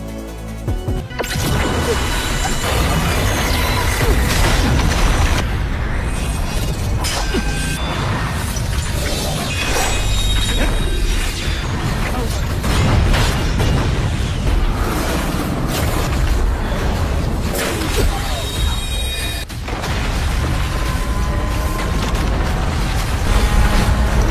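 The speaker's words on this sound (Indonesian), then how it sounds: "kedua roda itu pun berbenturan dan boom meledak hingga tak berkeping" Loud, dense barrage of crashing booms and smashing impacts with whooshes from an animated battle where two colliding wheels explode, continuous and chaotic for the whole stretch.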